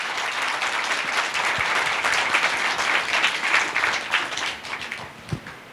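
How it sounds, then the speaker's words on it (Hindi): A church congregation at a Sunday service claps loudly and steadily for several seconds, a dense, close crowd applause that thins toward the end, with a few stray thumps. "प्रभु के लिए जोरदार ताली देंगे।"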